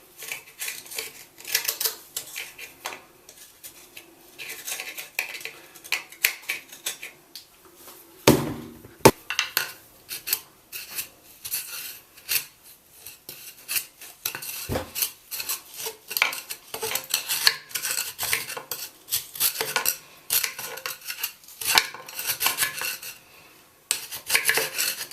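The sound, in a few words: scraping mineral buildup out of a slow drain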